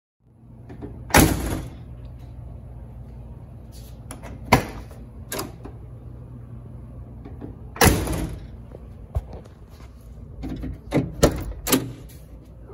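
On a C3 Corvette, the door handle is worked and the door opens and shuts, giving several sharp mechanical clunks and latch clicks spaced apart over a low steady hum.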